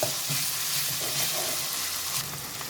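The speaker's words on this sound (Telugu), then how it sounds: "చూడండి, ఇట్లా మొత్తం ఆయిల్ తేలేంత వరకు దీన్ని కొంచెం ఉడకనివ్వండి" Manchurian gravy with tomato ketchup bubbling and frying in oil in a pan, a steady close hiss and crackle of sizzling that runs throughout with faint stirring.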